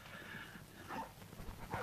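Dogs bark at night in the Spaghetti Western Sartana, heard as faint, distant yips and whimpering barks over a low, muffled background.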